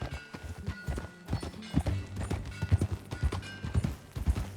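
Horse hooves clip-clop steadily in Red Dead Redemption 2, a rhythmic run of hoofbeats on the ground, fairly close and continuous with no talking over them.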